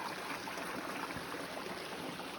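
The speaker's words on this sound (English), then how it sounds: "now we have a little creek we have to cross" A small creek flows with a steady, broadband rush and trickle of water, faint and even throughout with no voices.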